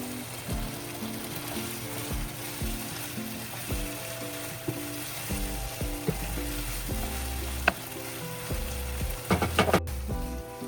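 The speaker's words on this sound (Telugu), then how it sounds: "ఇంకా ఫ్రై అవ్వాలి ఆనియన్ అనేది, ప్రాన్స్ అనేది" Prawns and onions frying in a pan for a spicy garlic prawn roast, a continuous sizzle broken by repeated scraping stirs and clinks of the utensil against the pan.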